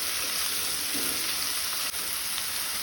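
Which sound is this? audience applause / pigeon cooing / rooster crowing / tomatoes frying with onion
tomatoes frying with onion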